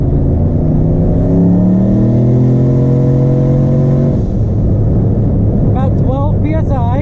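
Diesel truck engine roaring loud and close as it accelerates hard on a fuel run, pitch climbing steadily through the rev range before a shift, then continuing to drone while people talk over it.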